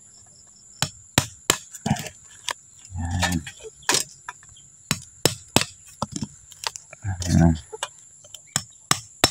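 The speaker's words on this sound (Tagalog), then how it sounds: "gawa ka lang, pukpok ka lang, tsaga ka lang magpukpok." Hand pounding with a hammer or chopping tool on wood outdoors in a rural setting, sharp repeated strikes at an uneven pace with pauses, fairly close, broken by short bursts of talk.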